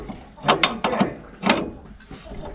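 Ratcheting clicks and metallic turns from bolts being tightened on a rotary cutter mounted to a UTB 445 4x4 tractor, several short bursts in an uneven rhythm, close and moderately loud, with no talk.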